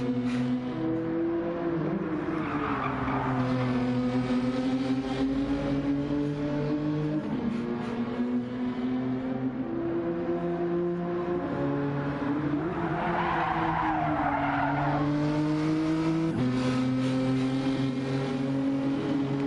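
Race car engine from Gran Turismo 7 lapping Brands Hatch, a steady loud drone whose pitch climbs and drops through gear changes and corners, with brief bursts of tire noise along the way.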